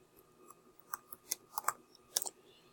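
Several scattered computer keyboard keystrokes, sharp and fairly close, in a short irregular burst of about eight taps with pauses between them, typing text during a screencast.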